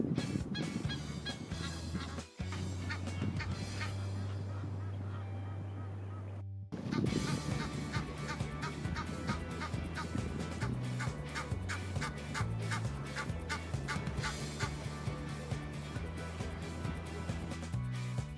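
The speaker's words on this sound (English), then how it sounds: "One morning we came across a flock of flamingos," A flock of flamingos calling in southern Africa, a loud, continuous chorus of goose-like honks, with one long sustained tone early and a short break partway through.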